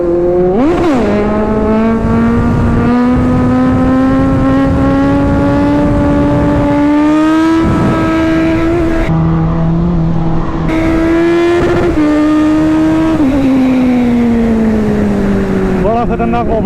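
A superbike engine roars loudly in an underpass, with echoing revs rising and falling and a long sustained drone throughout, while someone talks over it.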